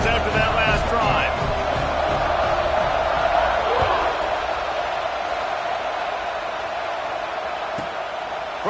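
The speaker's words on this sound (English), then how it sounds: "this crowd is feeling themselves after that last drive" A football stadium crowd at a college game against Oregon keeps up a steady, dense roar of cheering after a scoring drive, with a commentator's voice running over the crowd noise.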